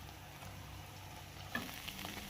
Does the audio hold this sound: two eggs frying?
yes